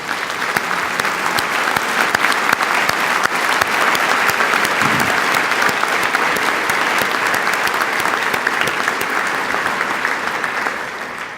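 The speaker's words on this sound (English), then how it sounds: "We want to give you a round of applause." A luncheon audience gives Dr. Stuckwish a sustained, loud round of applause at Portsmouth's State of the City event, dense even clapping that holds for over ten seconds and fades only slightly at the end.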